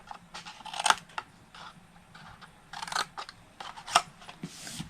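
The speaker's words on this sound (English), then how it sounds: "this end one, we're going to cut about 1/2 inch off and wedge" Scissors cut paper for a tall skinny square craft box, a series of crisp close snips spaced irregularly over a faint background hiss.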